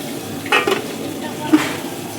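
Fish frying in oil during a post-festival home meal gives a brief, moderate sizzle, with a couple of utensil clinks and stirring scrapes standing out over a steady background hiss.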